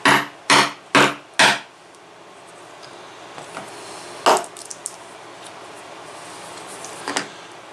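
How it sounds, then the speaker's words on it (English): A hammer strikes a tool through leather for a 1911 pancake holster, four loud evenly spaced whacks up close, then quieter shuffling and two lighter knocks later. "And this will take a couple of whacks to get her through"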